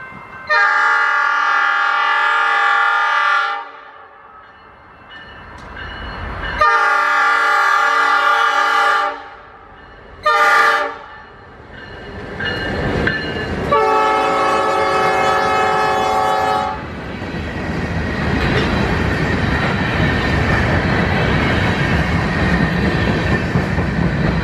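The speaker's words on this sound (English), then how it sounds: "Tacoma Rail's twice-a-week DuPont turn is able to get on the mainline and leave South Tacoma, with the classic pair of the railroad's only GP38s for motive power." Two Tacoma Rail GP38 locomotives pull a freight train onto the mainline, sounding several long, loud horn blasts before the rumble and clatter of passing cars takes over.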